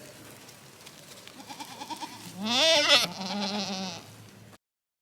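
A gray Kensington nanny goat lets out a loud, wavering bleat up close, followed by a second shorter bleat, over faint background noise.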